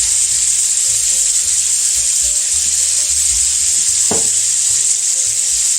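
Pasta browning in butter in a frying pan, seasoned with kosher salt and pepper, gives a steady, loud, close sizzle throughout with a brief clatter near the end.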